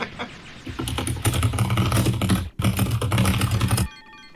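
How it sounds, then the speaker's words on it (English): A computer keyboard is typed on loudly and rapidly, dense bursts of clacking keys with a brief pause midway before stopping. "Who's typing like stupid loud?"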